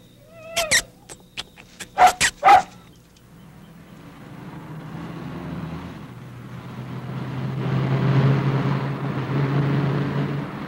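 Several sharp dog barks in a quick cluster near the start, loud and close, followed by a rising low rumble of a passing vehicle.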